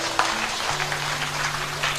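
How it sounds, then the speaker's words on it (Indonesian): An audience at a religious health talk claps in a dense, steady burst of applause, with a sustained tone humming underneath. "Tepuk tangan untuk kita semuanya."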